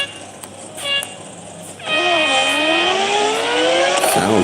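Mazda race car in Real Racing 3, its engine rising in pitch as it accelerates after a brief horn-like tone, loud and close, with voices talking in the background.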